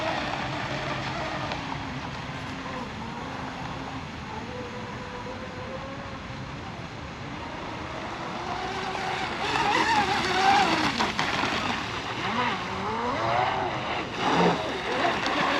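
A J&R Marine H26 fiberglass RC hydroplane boat runs at about three-quarter throttle, its motor a whining drone that rises and falls in pitch as it passes, louder toward the end, with people talking over it.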